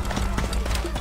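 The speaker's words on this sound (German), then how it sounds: "Im Hintergrund kommt unser Pferd angeritten." A horse gallops up in the video game Assassin's Creed Origins, its hoofbeats clip-clopping in a quick rhythm beneath steady game background noise, with a voice present.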